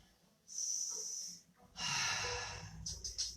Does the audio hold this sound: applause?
no